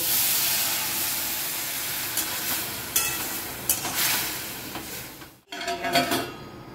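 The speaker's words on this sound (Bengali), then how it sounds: "সেদ্ধ হওয়ার জন্য জল দেব।" Water poured into a hot pan of meat cooking with ginger, garlic and turmeric hisses and sizzles loudly up close, the steam noise cutting out briefly before a fresh burst of bubbling and hissing.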